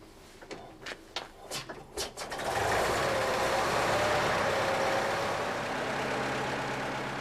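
Vintage Dennis fire engine being hand-cranked: a few separate cranking thuds, then the engine catches and settles into a loud, steady running roar close by.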